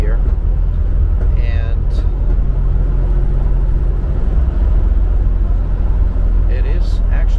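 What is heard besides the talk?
1972 Mercedes-Benz 280 SE W108 accelerating through gears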